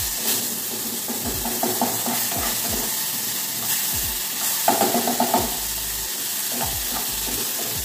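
Garlic and salt sizzle and hiss in a hot pan, a steady close frying crackle broken by scraping stirs from a utensil.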